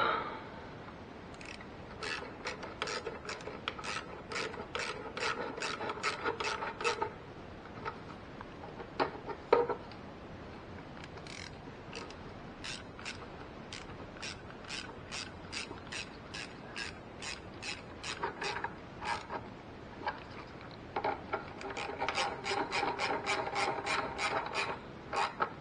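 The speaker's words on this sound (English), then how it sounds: "We're gonna get our 8mm. And we're gonna tighten all four of them up." An 8mm ratchet tightens the four valve cover bolts on a 2004 Ford Focus, giving repeated rapid clicking runs broken by short pauses. The sound is close and moderately loud, with no talking.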